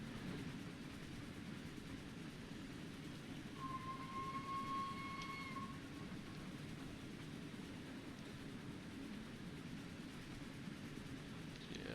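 A train rumbling steadily along in the Train Sim World game, with a low continuous drone of the engine and wheels and a brief faint tonal whine partway through, no speech.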